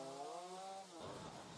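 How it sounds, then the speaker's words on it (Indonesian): A chainsaw cuts through a fallen tree blocking a road, a steady buzzing drone that shifts pitch partway through as the blade bites into the wood, heard from a short distance. "memotong pohon dengan menggunakan gergaji mesin"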